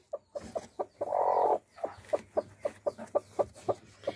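A broody hen sitting on a fake egg clucks in a steady series of short, close clucks, broken by one longer drawn-out squawk early on.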